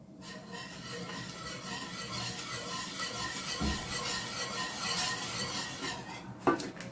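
A tablespoon stirring vinegar into milk in a pot for homemade cheese, a faint, continuous scraping and clinking of metal against the pan that runs throughout, with a couple of sharper knocks near the end.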